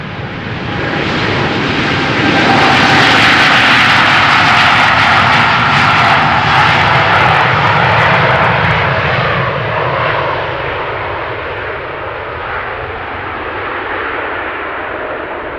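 A jet airliner takes off from runway 36L at Amsterdam Schiphol Airport, a loud, close, sustained engine roar that swells to a peak and then slowly fades as the aircraft climbs away, with no voices over it.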